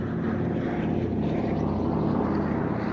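A Douglas C-47 Dakota propeller aircraft operated by Dakota Heritage drones steadily overhead at the Duxford Battle of Britain air show, a loud continuous low engine roar with no voices.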